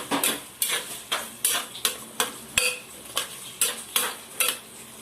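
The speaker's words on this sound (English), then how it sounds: "Give it a good mix." A spoon scrapes repeatedly through a pot of chicken curry with freshly added cut potatoes, about a dozen rhythmic stirring strokes over a soft background sizzle, close and clear with no talking.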